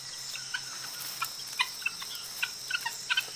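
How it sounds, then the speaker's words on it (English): Short, sharp guinea fowl clucks repeat irregularly over a quiet outdoor background with faint insect chirring, several clucks in quick succession. "they live in noisy flocks, clucking to help keep the group together."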